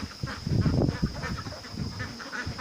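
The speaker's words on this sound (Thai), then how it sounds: "ครับเป็ดไข่ พันกากีแคมเบล นะครับ อายุ 13 สัปดาห์" A flock of 13-week-old Khaki Campbell laying ducks quacking and honking continuously nearby, raucous overlapping calls with a steady high whine in the background.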